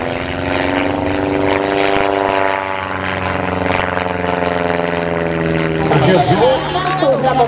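Five Zlin Trener propeller aircraft fly an aerobatic group display at the 2018 Rakovník airshow, their piston engines droning loudly and steadily overhead in a rich humming tone that shifts slightly in pitch, with voices briefly joining near the end.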